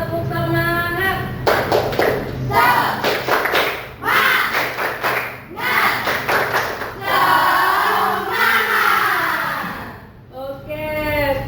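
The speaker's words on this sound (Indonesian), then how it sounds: "biar kalian nambah semangat, kita tepuk semangat dulu" Schoolchildren in a Hindu religious education classroom clap in a rhythmic spirit cheer, bursts of sharp group claps alternating with chanted voices, loud and close, repeating in patterned groups.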